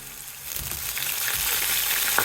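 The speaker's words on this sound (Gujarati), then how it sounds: "લસણની ચટણી નાખતાની સાથે જ આપણે લઈ લઈશું સ્વાદ માટે રીંગણા" A Kathiyawadi brinjal curry tempering sizzles loudly as garlic chutney and brinjal go into hot oil with dried red chilli, the hiss swelling steadily with a few soft stirring knocks, close up and without voices.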